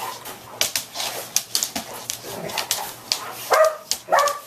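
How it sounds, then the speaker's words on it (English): Dogs roughhousing indoors in a house, with repeated short barks, yips and whimpers in quick bursts, close and lively. "Dogs, we don't do this in the house."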